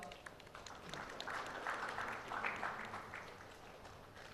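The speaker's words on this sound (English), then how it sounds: "A big round of applause for Rahul, please." Steady applause from the audience at the India Insurance Summit & Awards 2019, a dense, even wash of clapping that holds for the whole stretch without a break.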